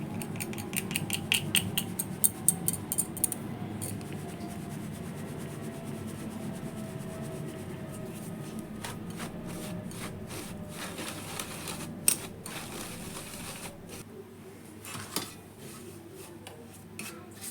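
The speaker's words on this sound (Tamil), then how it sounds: "நம்ம அரைச்சி வச்சுருக்கிறத நம்ம ஜலிச்சிக்கலாம்." Ground roasted gram and dried red chili being sifted with wheat flour through a metal sieve, a steady close scratchy rubbing with quick tapping rattles near the start and scattered knocks later, no talk.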